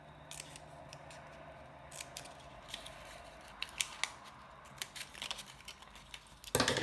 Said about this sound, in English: Fold it just a little bit so you can cut on this edge.